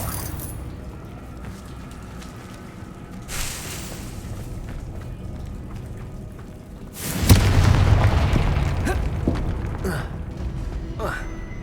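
A fiery Confringo spell explodes in Hogwarts Legacy gameplay with a loud, broad boom and a rumbling tail after a stretch of quieter game ambience, with talk over the action.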